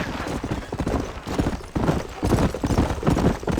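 Steady clip-clop of horse hooves at a trot in the video game Red Dead Redemption, continuous and fairly loud, with rolling rhythm throughout.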